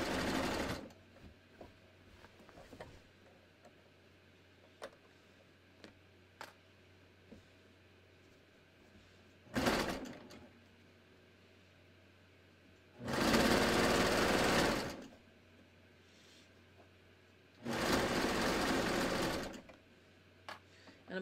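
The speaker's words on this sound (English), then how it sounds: "Okay, so now I'm just going to serge down." A serger overlocking the hem of a sleeveless shirt runs in three bursts, a short one and then two longer steady whirring runs, close and loud, separated by quiet pauses with small clicks and handling sounds.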